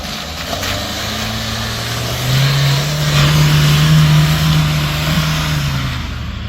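A Dacia Duster revs its engine on a high mountain track on the Colle Sommeiller road, a loud mid-pitched drone that swells and holds for several seconds before easing back.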